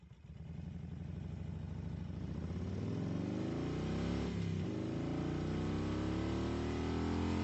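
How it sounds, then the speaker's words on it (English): A supercharged 1450cc 2017 custom Harley V-Rod street racer with a 5-speed gearbox runs loud and close, its engine holding a steady throaty drone with a brief dip in revs partway through, alone with no voices. "Kane's owner and president, Mick Cawthorn, on a 2017 custom V-Rod street racer. Engine is about 1450cc and supercharged, and the bike has a 5-speed gearbox"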